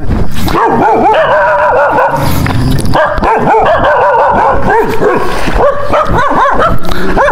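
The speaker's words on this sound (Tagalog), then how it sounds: "tahol ng tahol" Several dogs bark repeatedly in quick, overlapping bursts, loud and close, with occasional yips mixed in, at a camp in Maragondon, Cavite.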